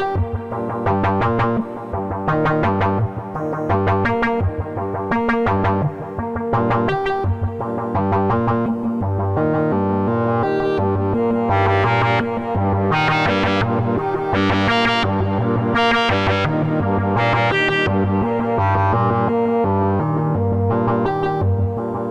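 A eurorack modular synth patch in which a slow, unsynced sine wave modulates a CV input, morphing between regular and inverted modulation; distorted, effect-laden tones pulse in a steady rhythmic sequence, loud and continuous with no voices.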